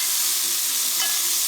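Burger patties sizzle in butter in a hot pan, a loud, steady, bright crackling hiss that fills the whole moment with no pauses and no talking.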